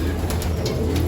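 Young pigeons in a loft give soft, close, throaty coos in a brief stretch, low and rounded, with no voices over them.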